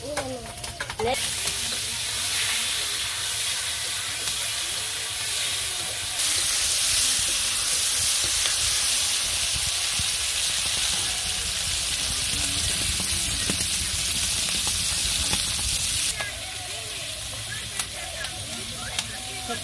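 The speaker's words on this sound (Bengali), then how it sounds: "মাছগুলো ভাজা হয়ে গেছে, নামিয়ে নিই।" Fish frying in a kadai at home, a loud, close, continuous hissing sizzle with crackles and stirring that swells stronger midway, then eases slightly near the end, with no talking.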